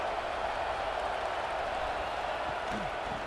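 A stadium crowd in the EA College Football 26 video game sends up a steady, broad roar of cheering that holds at an even level throughout.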